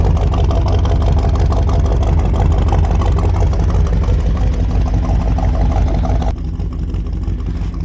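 A vehicle engine runs loud and steady while a first-generation two-wheel-drive long-bed Chevrolet S10 chassis is pulled out on a chain; the engine note drops and softens near the end.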